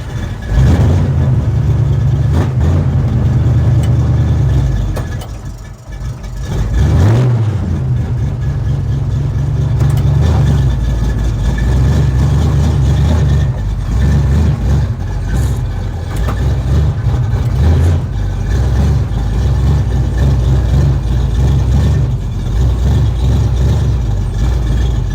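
A 1972 Chevrolet Chevelle rescued from a field runs steadily with a deep, loud engine rumble, briefly dipping before settling back into a continuous idle, with no talking.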